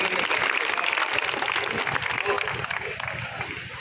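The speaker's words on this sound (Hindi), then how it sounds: "एक बार जोरदार तालियां बजाकर।" Audience applause at a school poetry recital (kavi sammelan) in a Hindi-speaking intercollegiate setting, a dense burst of clapping filling the room with voices and chatter mixed in, steady and loud throughout.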